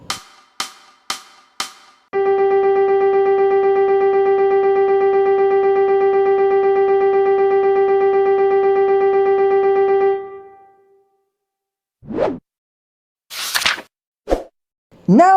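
Four short percussive clicks tick off a beat, then one long sustained synthetic tone holds steady for about eight seconds before fading, followed by a few brief scattered sounds near the end.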